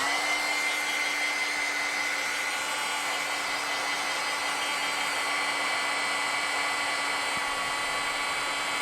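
A dryer blows a steady, even whine with a constant hum, running unbroken and fairly close while drying a freshly made painting.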